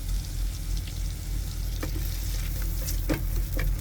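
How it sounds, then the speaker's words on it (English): Butter melting in an Instant Pot, a steady close sizzle and crackle of frying with a few brief utensil clinks. "Alright, we got our butter melting."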